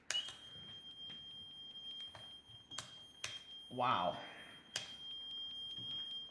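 A Meterman 35XP multimeter's audible alarm gives a steady high-pitched tone with a series of sharp clicks and beeps as the selector switch turns; a voice briefly exclaims partway through.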